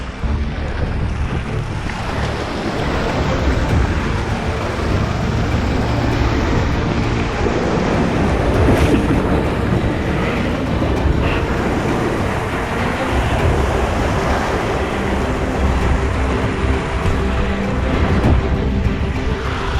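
Ocean surf surges and roars continuously at the shore, loud and close, with heavy wind buffeting the microphone throughout and no clear voices.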